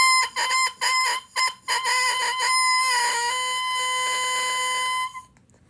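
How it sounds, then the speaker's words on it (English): An oboe double reed played alone, squawking and crowing like a rooster: a string of short bright honks, then a sustained wavering crow that slides up and down for a couple of seconds before stopping abruptly. "Also, I can make it crow."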